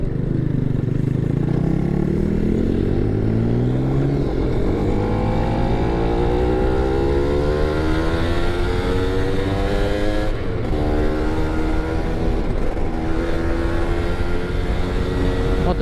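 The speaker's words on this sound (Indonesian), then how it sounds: "Motor gua mesinnya rasanya kayak mau copot bro, minta diservis ini bro." A Yamaha F1ZR two-stroke motorcycle engine revs continuously and loudly, its buzzing pitch rising and falling through repeated throttle blips, close and alone with no talking.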